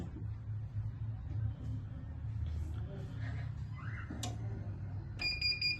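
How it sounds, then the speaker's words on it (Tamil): A heat press timer beeps at the end of a 15-second pressing of a football jersey, a rapid series of bright electronic tones near the end over a low machine hum and faint talk. "ஸோ 0 வந்ததுக்கப்புறம் பீப் சொன்னதுக்கப்புறம் நம்ம எடுத்துடலாம்"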